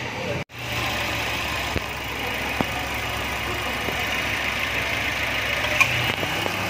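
A 2019 Perodua Aruz four-cylinder engine idles with a steady low hum and light vibration, a few faint clicks scattered through it.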